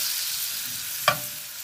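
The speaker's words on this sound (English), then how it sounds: "And just saute that bad boy." Mushrooms sauté in a pan, a soft steady background sizzle broken by one brief scrape or clack of a utensil near the middle, close and quiet, with no talking.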